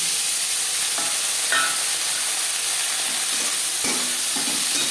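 Green beans and eggplant frying in hot oil with green chillies for a vegetarian Bengali beto shak bhaja, giving a steady, loud sizzle with a few stirring scrapes and small crackling bursts throughout.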